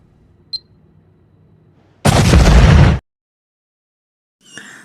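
A bomb explodes in a racing film scene as one loud, roaring blast lasting about a second, set between near silence, a faint click before and a brief noise after.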